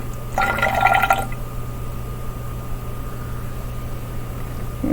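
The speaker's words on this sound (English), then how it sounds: "So I'm going to pour some of the liquid down the drain." Liquid poured from a lab vessel down a sink drain in a laboratory, a brief splashing gush in the first second over a steady low room hum, then only the hum.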